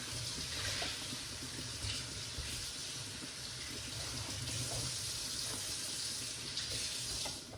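Tap water runs steadily into a kitchen sink while vegetables are washed under it. The rushing, even spray stays close and constant, with faint splashes and no talking.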